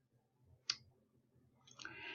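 A single sharp computer mouse click, quiet and close, followed by soft faint rustling in an otherwise still room.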